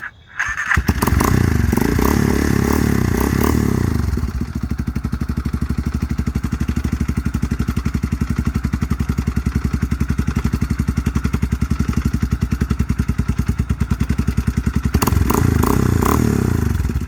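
A big bore Yamaha Warrior quad engine fires up and runs loud and close, with a rapid throbbing idle and revving surges at the start and finish.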